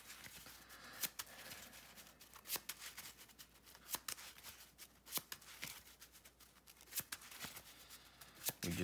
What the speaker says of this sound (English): we're going to give this a little bit of a shuffle